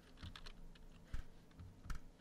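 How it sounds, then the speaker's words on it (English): Quick, irregular keystrokes on a computer keyboard, clicking in short bursts with brief pauses, fairly close and quiet, with no voices. "Hold on, I'm typing something."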